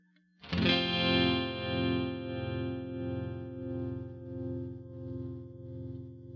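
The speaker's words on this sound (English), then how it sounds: "here's the vintage trem in tube mode." A sustained electric guitar chord rings out through a Mobius pedal's vintage tremolo in tube mode, its volume pulsing in a steady, even wobble as it slowly fades.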